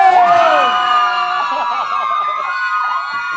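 A loud crowd screams and shrieks together, high-pitched cries swelling at first and then tapering slightly over a few seconds.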